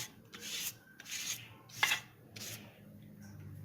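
Butter being rubbed around the sides of a cake tin for an orange cake, giving several soft, close scraping and rubbing strokes in short bursts with brief pauses between them.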